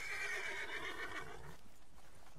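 A horse in the Red Dead Redemption 2 video game lets out a loud, close whinny that rises then trails off, with faint hoof clip-clops underneath and no voices.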